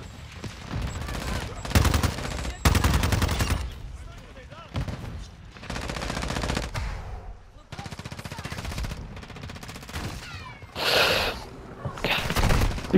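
Repeated bursts of automatic gunfire in Call of Duty multiplayer, loud and close, rattling volleys separated by short pauses, with a player talking over parts of it.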